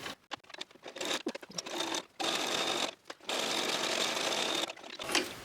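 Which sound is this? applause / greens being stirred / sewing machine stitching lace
sewing machine stitching lace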